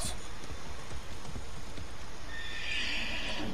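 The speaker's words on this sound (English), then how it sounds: "Let's see if we can catch up with this horse." A horse whinnies and hooves clip-clop in a video game, with a steady rain-like hiss underneath; the neigh rises near the end over the continuous patter.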